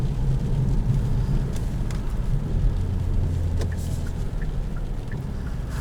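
Interior drone of an all-wheel-drive 2020 Kia Stinger GT-Line driving slowly on a snowy road, a steady low engine and road rumble with faint ticks, continuous and fairly loud.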